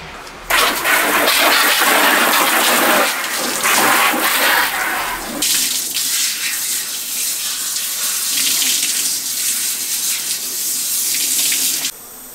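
Laundry being hand-rinsed in water: a loud, steady rush of running water like a tap or basin filling, pouring continuously with a brief shift in tone partway through, close and without talk.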